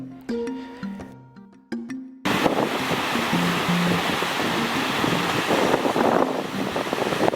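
Surf and wind along Golden Beach in Malindi: a steady wash of breaking waves with wind rushing over the microphone, preceded by a short stretch of music before the roar takes over.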